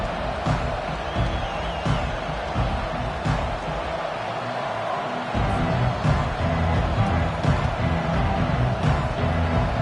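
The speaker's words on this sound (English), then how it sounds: "This crowd, full throat, splitting the eardrums" A stadium crowd in a college football video game roars as a continuous dense wall of cheering that grows louder midway, with game commentary talking over it.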